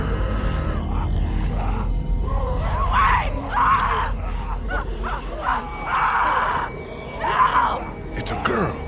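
A girl screams repeatedly in The Walking Dead video game, several loud anguished cries in bursts over a low droning ambience, with some groaning between them.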